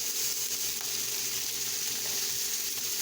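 Hamburger patties sizzle and fry in a pan beside an onion, a steady close crackle running unbroken with no talking.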